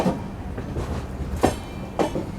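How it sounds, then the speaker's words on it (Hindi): A passenger train pulls out of New Cooch Behar station in India, carriages rumbling close by with two distinct clanking wheel-joint thumps over a steady low rolling noise, no talking. "चलिए डिपार्ट हो गई अपनी ट्रेन न्यू कूच बिहार से"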